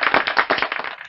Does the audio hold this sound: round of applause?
yes